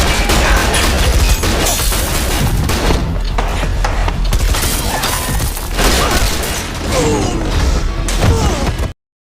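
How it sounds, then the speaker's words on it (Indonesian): Rapid gunfire in an action film, dense volleys of shots and crashing impacts, loud and continuous for several seconds before cutting off abruptly. "Setelah baku tembak singkat, Ellie akhirnya berhasil melumpuhkan dan menangkapnya hidup-hidup."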